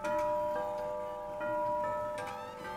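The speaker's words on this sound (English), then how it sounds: "That was the Westminster chime." Colonial-style antique clock with a cathedral-type chime sounding the Westminster melody, clear sustained metallic tones struck in sequence, ringing and overlapping, close and fairly loud with no talk.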